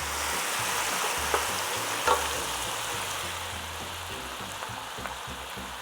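Half a cup of white wine hitting a hot pot of fish stew with salmon, shrimp and vegetables, a steady close sizzle with a couple of faint clinks, no voices.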